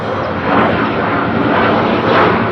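An airplane roars with a loud, steady broadband engine rush that swells slightly and holds throughout, with no voices.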